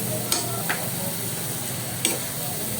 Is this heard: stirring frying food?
yes